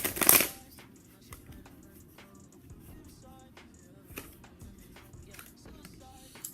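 Tarot cards shuffled in a brief riffle at the very start, then faint handling rustles and soft taps through a quiet room.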